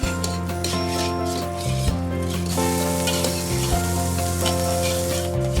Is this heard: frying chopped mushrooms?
yes